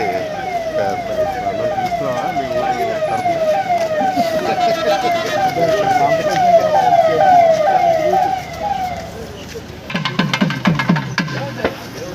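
A police jeep siren wails loud and close in a steady repeating rise-and-fall for about eight seconds, then cuts off, with traffic and vehicle noise underneath and people talking briefly near the end.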